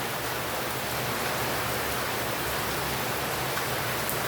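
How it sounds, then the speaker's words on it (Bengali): Heavy rain pouring steadily, a dense, even roar of falling water with no breaks, loud and close throughout. "একদম ঝমঝম ঝমঝম করে বৃষ্টি হচ্ছে বন্ধুরা।"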